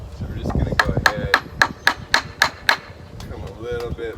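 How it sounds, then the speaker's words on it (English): Small old hammer tapping a wooden board into place while converting a wrought iron fence to a wooden fence, eight sharp evenly spaced taps in a row, with a person talking around them. "So we're gonna take a little hammer."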